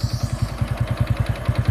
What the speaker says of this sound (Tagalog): tunog ng aking makina para malaman natin mamaya pag hindi pa napaltan saka pag napaltan